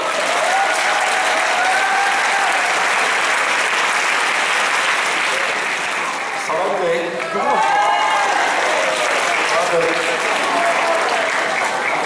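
Audience applause for teachers at a Korean school festival, sustained dense clapping from a large crowd throughout, with a voice speaking over it partway through.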